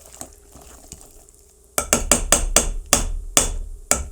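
Fresh milled muffin batter is stirred briskly in a bowl, with a quiet scrape early on, then about eight sharp, evenly spaced knocks and scrapes of a spoon against the bowl, close and loud.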